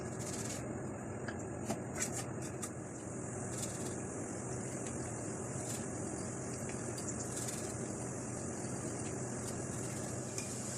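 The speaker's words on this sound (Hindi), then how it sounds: "डोनट्स बहुत ही हल्की आंच पे इनको फ्राई करेंगे।" Sweet potato donuts fry in oil in a kadai over a low flame, giving a steady, continuous sizzle and bubbling with no pauses and no talking.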